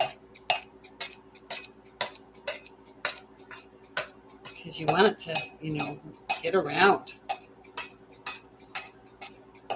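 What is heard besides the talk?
knife chopping food for sweet potato stew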